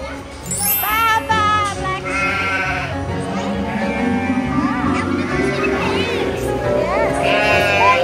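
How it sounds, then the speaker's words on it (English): Goats bleat repeatedly in short, wavering calls against a busy county fair background, with a person talking over them at times. "look at the goats over there"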